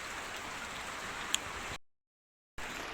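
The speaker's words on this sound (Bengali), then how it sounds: "বৃষ্টি পড়ছে" Rain falls steadily at dawn outdoors in rural Bengal, a soft even hiss of drops on surfaces, faint and distant, with one sharp tap and a brief cut in the sound.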